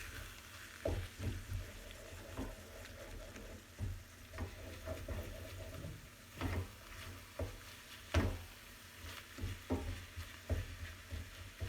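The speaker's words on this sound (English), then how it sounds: "Then as we cook, we stir and scramble" Scrambled eggs cooking in a pan while being stirred: a faint, steady sizzle broken by repeated soft scrapes and taps from the utensil.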